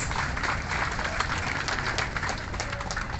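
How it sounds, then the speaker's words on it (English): Crowd applause for awardees at an outdoor Rizal Day celebration at Plaza Libertad in Iloilo City, a dense, continuous patter of clapping heard from a distance and fairly even throughout. "let's give a round of applause to our awardees"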